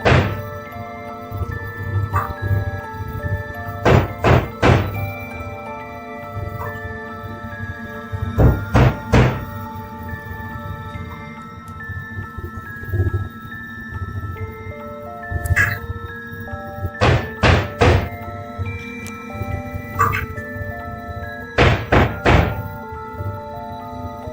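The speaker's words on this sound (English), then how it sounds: "strange knocking sounds began coming from the bathroom, as if someone was hitting the door from the inside" Knocking on a bathroom door from the inside comes in repeated clusters of two to four heavy thuds, spaced several seconds apart over a low droning background.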